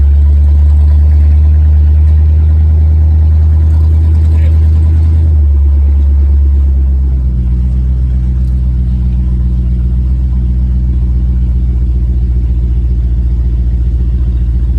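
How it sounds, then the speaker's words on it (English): A 1968 Lincoln Continental V8 fitted with Holley Sniper EFI idles at roughly 860 rpm, a loud, close, steady rumble that drops slightly in pitch partway through and holds even. "We're idling at about 870, 860-ish RPM"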